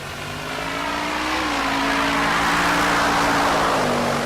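A naturally aspirated Corvette Z06 with an LS7 small-block V8 launching at a drag strip, a loud engine roar building steadily as it accelerates away, with crowd and track noise behind.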